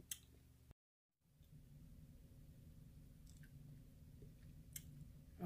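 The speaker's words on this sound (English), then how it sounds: "I'm sitting here just chewing and chewing and chewing" Close, faint chewing of hot grits, a soft steady squishy mastication running continuously after a brief silent gap, with an occasional small click.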